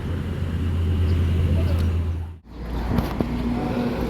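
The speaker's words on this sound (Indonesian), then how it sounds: "ini bus yang datang dari kota ini ya, dari kota Medan, PO Sempati, Mercedes-Benz 1830 untuk tujuan Padang sekarang" A PO Sempati Mercedes-Benz 1830 bus from Medan bound for Padang rumbles nearby with a steady low engine drone, briefly dropping out before resuming over roadside traffic, with a person talking over it.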